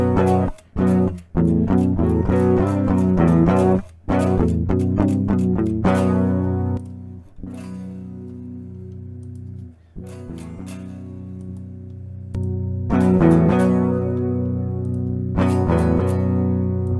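Guitar through a compressor pedal, played in strummed chords and picked notes with steady, evened-out loudness, short pauses between phrases and sustained ringing tails, alone without talk.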